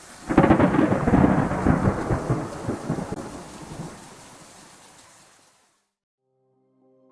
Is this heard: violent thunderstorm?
yes